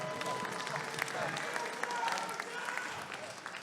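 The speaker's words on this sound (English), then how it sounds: "we need to give a big round of applause for Mr. Jesse Von Vlack" Crowd applause fills the space at an MMA fight, a dense continuous patter of clapping held steady throughout with a voice talking over it.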